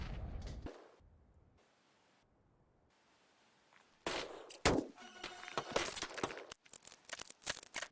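Gunfire in Counter-Strike: Global Offensive on the Dust2 map. A quiet stretch gives way to a loud burst of shots and rapid, crackling fire that continues to the end, with no talking.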